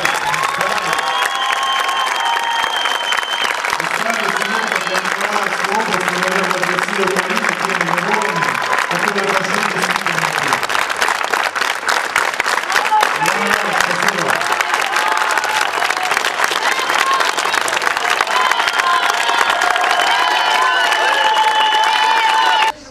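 Applause from a large audience at a Ukrainian youth event, a long continuous clatter of many hands with crowd noise and some voices mixed in, steady and loud for the whole stretch.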